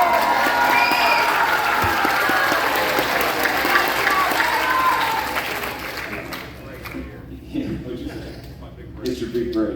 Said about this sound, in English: Mr. Raymer, the high school director, who did round of applause.